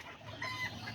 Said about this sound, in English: That's the little silky hen, and then the little silky rooster